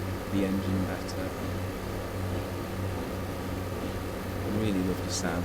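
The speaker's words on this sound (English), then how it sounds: "I really love the sound of the engine in this train." Class 142 Pacer diesel engine from a train simulator game, a steady low drone with a lingering hum throughout, running continuously at moderate level with faint brief clicks and no talking.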